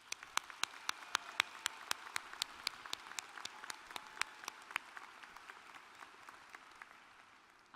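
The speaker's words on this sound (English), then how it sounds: "Let's give them a loud round of applause" Sparse, steady clapping at a university spring commencement ceremony, individual claps spaced evenly over a soft crowd wash, moderately distant and fading toward the end.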